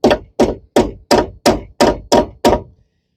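A hammer taps a door hinge pin bushing into a Squarebody truck door: eight sharp, evenly spaced metallic knocks, close and loud, then a brief quiet.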